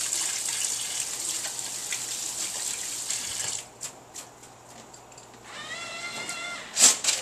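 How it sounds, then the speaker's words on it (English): Tap water runs steadily in a kitchen sink as hands are washed, a continuous close splashing that breaks up into patchy splashes midway before resuming. "just get a quick wash of your hands"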